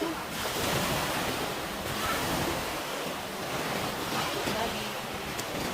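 Steady rush of surf washing in at Nea Mesangala, Greece, broad and continuous, with some wind buffeting the microphone and no clear voices.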